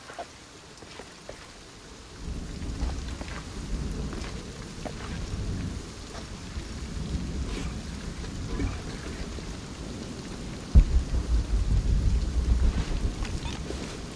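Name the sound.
thunderstorm with rain in the video game Shadow of the Tomb Raider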